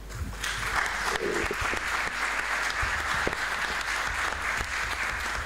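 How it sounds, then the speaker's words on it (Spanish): Sustained audience applause at a teachers' congress opening ceremony, a steady, dense clapping from a large crowd lasting throughout without pause. "Fuerte el aplauso."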